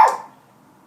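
A single sharp dog bark, close and loud, that fades out quickly and leaves near silence behind it.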